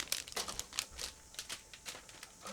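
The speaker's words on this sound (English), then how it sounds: "Now I'm opening another plastic bag" Plastic bag of 1/35 scale ICM model truck kit parts being opened, with a string of close crinkling and rustling bursts in irregular rhythm, no talk.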